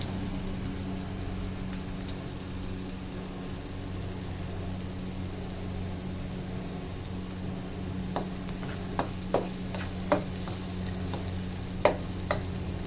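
Crab sizzles steadily in a frying pan as it browns for a dish of crab in evaporated milk, a soft continuous crackle with a few sharp clinks and stirring taps near the end.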